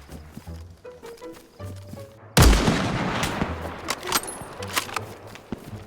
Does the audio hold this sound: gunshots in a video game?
yes